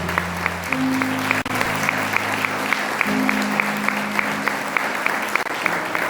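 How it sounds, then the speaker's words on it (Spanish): A church congregation applauding steadily during a sermon, a dense continuous patter of clapping with a low sustained tone underneath, held at an even level throughout. "Si ese aplauso es para Cristo, que se oiga bien fuerte ese aplauso."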